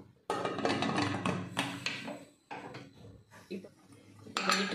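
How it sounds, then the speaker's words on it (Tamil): A pressure cooker lid is fitted onto the cooker while making rava kesari, with repeated loud metallic clanks and scrapes of metal against metal, close by, in bursts with short pauses. "இப்போ நம்ம குக்கர் மூடி போட்டுடலாம்."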